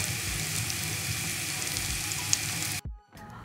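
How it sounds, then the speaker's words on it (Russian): Chopped onion sizzles in melted butter in a frying pan, a steady close hiss and crackle that cuts off abruptly near the end. "вываливаем на сковородку наш нарезанный лук и обжариваем"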